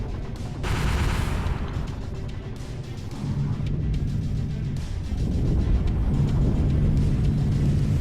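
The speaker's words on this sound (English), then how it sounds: "the majority of my turrets are able to actually shoot forward" Ship turrets firing forward at a meteor cluster in the space game Solar Warden, dense continuous rapid gunfire and blasts layered over a droning engine hum, loud and sustained, with no talking.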